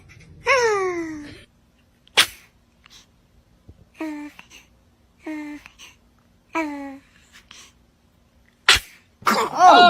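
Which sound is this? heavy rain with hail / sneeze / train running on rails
sneeze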